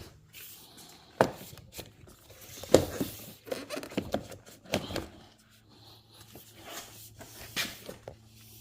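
The door panel covering on a 2015+ Hyundai Genesis driver door is peeled away in short scraping, crinkling tugs, close and fairly quiet, spread unevenly over several seconds.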